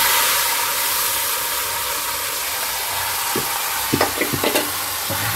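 Boiled chana dal tipped into a hot pan with turmeric and spices, giving a steady broad sizzle with a few sharp scraping stirs toward the end; no talking.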